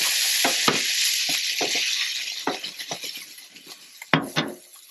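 Pancetta frying in a pan gives a steady, close hiss of sizzling fat, broken by spatter pops and a few sharp metallic clinks of a utensil against the pan near the end.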